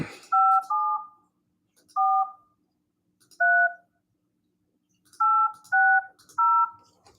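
Telephone dialing tones sound as a number is keyed in, seven short, clean beeps in irregular groups, close and distinct against a quiet background.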